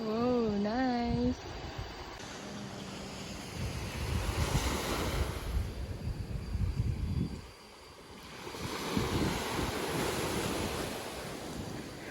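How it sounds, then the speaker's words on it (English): Ocean waves wash onto a beach in Malaysia, with rolling surf, heavy wind buffeting the microphone, and brief faint voices near the start. "Listen to the sound of the waves."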